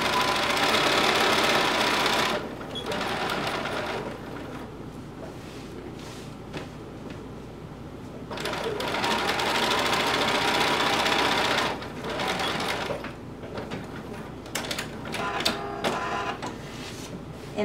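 A sewing machine stitches a leather top piece in several bursts of rapid, rhythmic mechanical whirring, broken by short quiet pauses between runs.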